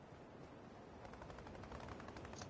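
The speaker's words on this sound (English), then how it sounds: "We're literally going towards gunfire." Automatic weapon fire in the Fortnite video game sounds as a dense, rapid rattle of shots that continues throughout, faint and distant under a constant wash of noise.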